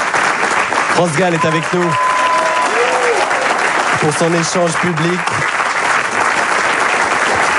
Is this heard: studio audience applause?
yes